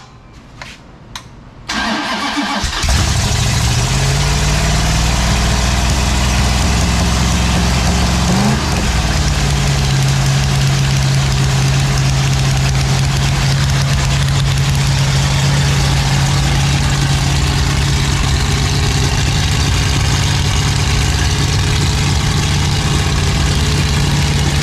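A rebuilt 440 Six Pack V8 cranks over and catches, then settles into a loud, steady, deep idle that rumbles on without a break for over twenty seconds, close to the microphone.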